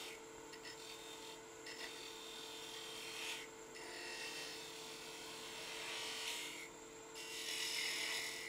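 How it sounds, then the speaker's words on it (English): A beading and parting tool cuts into spinning wood on a lathe, giving a soft, continuous scraping rasp that swells and fades in gentle waves, faint and close. "I'm just going to reach and use my beading and parting tools, kind of like a skew."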